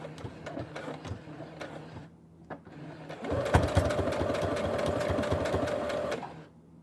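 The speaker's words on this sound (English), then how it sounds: "I come down to the next one on the same side and back stitch." A sewing machine back stitches across a kitchen towel, a steady, close mechanical whir running for several seconds after lighter intermittent stitching ticks, with no talk over it.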